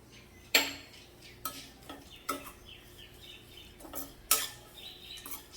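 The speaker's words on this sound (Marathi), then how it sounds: "यातच आता मी खसखस पण भाजून घेते" Poppy seeds roast in a pan while a spatula stirs them. Sharp clinks and scrapes against the metal recur irregularly over a quiet, faint background, with no voices.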